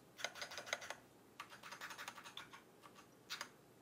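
Keys clack on an ErgoDox EZ split keyboard in quick bursts of taps with brief pauses between, close up but quiet.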